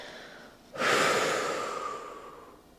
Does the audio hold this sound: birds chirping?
no